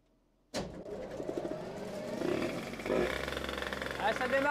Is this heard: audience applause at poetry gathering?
no